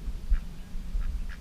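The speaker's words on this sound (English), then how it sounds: "That's actually Mrs. Quack making all the noise." A duck, a mother with four ducklings, quacks a few times nearby, short nasal calls spaced apart over a low background rumble.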